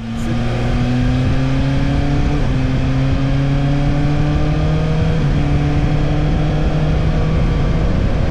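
BMW S1000XR 2024 sport-touring motorcycle riding at speed, its engine note loud and steady with rising pitch sweeps as the quickshifter clicks up through the gears, wind rush underneath throughout.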